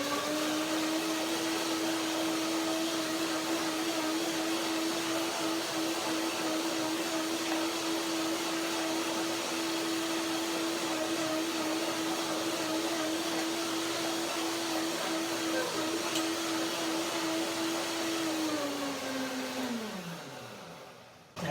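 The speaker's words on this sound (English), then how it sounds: "So I blend it with some water, not too much." Blender blending Brazil nuts with a little water, a loud steady motor whir held for about twenty seconds, then winding down in pitch as it switches off, close up with no talk.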